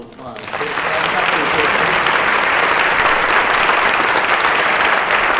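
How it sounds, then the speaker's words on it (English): Applause from a high school event audience for students who made Shark Tank-style presentations, a dense sustained round of clapping that swells quickly and holds steady, loud and close. "these students that made the presentations tonight deserve one more round of applause"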